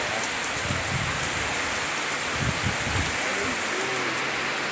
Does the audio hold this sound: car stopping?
no